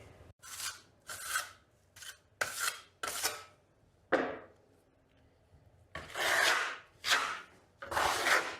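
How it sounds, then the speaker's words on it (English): A steel spatula and trowel scrape and spread Vasari marmorino lime plaster from a bucket, making close, rasping strokes in irregular bursts separated by brief quiet gaps. "we're just going to use a spatula to get the plaster out of the bucket and onto the trowel"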